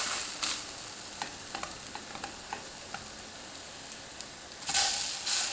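Tofu fries on medium heat in a pan, a steady broadband sizzle with scattered small pops and crackles, swelling louder near the end.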